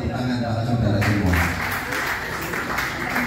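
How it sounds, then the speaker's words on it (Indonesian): Applause from an audience at a school writing-competition presentation event, a dense broadband wash of clapping that swells after the first second and holds steady to the end, with a voice speaking over it. "tepuk tangan para saudara semua"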